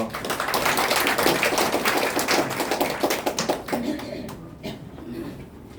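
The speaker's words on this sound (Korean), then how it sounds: "우리 박수로 환영합니다." A church audience applauding a singer at a graduation ceremony, making dense, sustained clapping that fades toward the end, with some voices mixed in.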